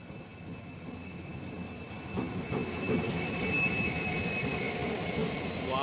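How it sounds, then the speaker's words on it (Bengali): Steady rumbling rail noise from the Siliguri–Katihar Intercity Express hauled by a WDG-4 diesel locomotive, swelling slightly louder partway through with faint high whine, no talk. "সামনে আছে WDG-4 ডিজেলের"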